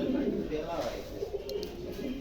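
A pair of Stesar pigeons coo steadily and close by, a continuous low warbling murmur that carries through the whole stretch with no pause.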